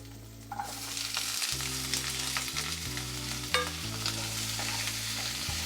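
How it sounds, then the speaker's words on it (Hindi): Steady loud sizzling of capsicum and onion stir-frying in a hot pan, with a low hum underneath and occasional clinks of a spatula. "और 2 से 3 मिनट हम इसे हल्का भूनेंगे।"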